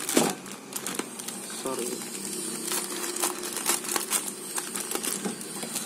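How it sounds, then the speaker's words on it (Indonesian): Plastic packaging of Intermi instant noodles being torn open, with crisp, irregular crinkling and crackling close up throughout, alongside a brief spoken word. "Kita buka ya. Kita unboxing Interminya."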